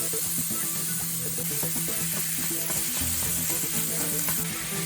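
Ground beef fries with onions in a pan, giving a steady, close, loud sizzle with soft stirring scrapes and no pauses.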